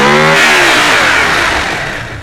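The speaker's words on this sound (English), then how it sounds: "But that engine sounds amazing." Modern supercar engine in the Automation car-design game revving hard, loud and close, with a rising harmonic whine that tapers off over about two seconds.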